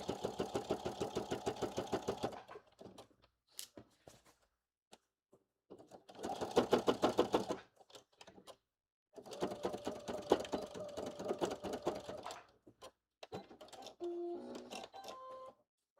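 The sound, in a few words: sewing machine sewing a blazer pocket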